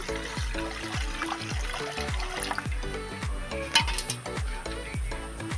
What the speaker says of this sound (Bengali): আমি এখন কড়ার মধ্যে দিয়ে দেবো জল